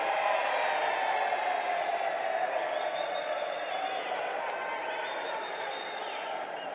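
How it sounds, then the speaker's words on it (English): Members of a parliamentary joint sitting at City Hall applaud during the state-of-the-nation debate, a sustained, even roomful of clapping with faint murmurs, moderately distant and gradually easing. "A round of applause."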